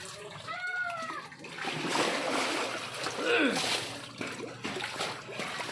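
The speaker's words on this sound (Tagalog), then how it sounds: "Ang lakas ng alon." Strong waves splash and churn while a family swims, giving a continuous rush of water with sloshing surges. Children's voices and shouts rise above it at times.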